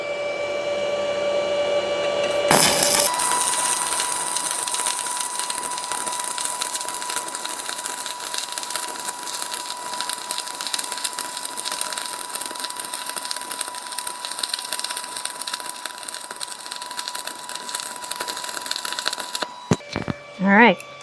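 Stick welding with a 1/8 inch rod at 90 amps on 220 volts with an MMA200SE welder: a sharp strike starts a loud, continuous crackling sizzle with a steady buzzing hum that runs about seventeen seconds and then stops abruptly.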